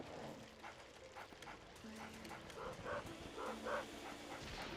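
A dog barks and yips in Luigi's Mansion on Nintendo Switch, several short repeated woofs over game music and ambience, moderately loud.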